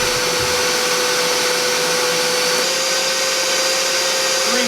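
An air-flow test rig blows 30 grams of talc through a motorcycle air filter treated on one side, producing a loud, steady rushing roar like a vacuum cleaner. A faint tonal hum runs underneath, and no one speaks.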